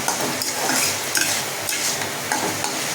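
Potato and pointed gourd curry sautés in oil with a dense, continuous sizzle. A utensil stirs and scrapes against the pan, close and loud, with no talking.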